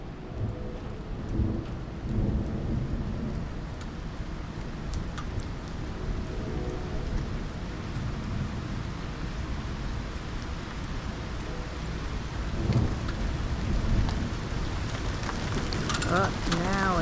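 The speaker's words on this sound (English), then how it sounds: "Just got a severe thunderstorm warning for Maine." Steady rain pours down during a severe thunderstorm at a camping resort in Old Orchard Beach, Maine, with low rumbling thunder rolling underneath and a faint voice now and then.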